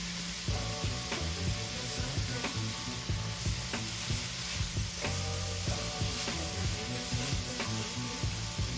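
Spicy sausage sautéing in a pan with onions and a little minced garlic, a steady close sizzle with repeated scraping stirs throughout, no talking.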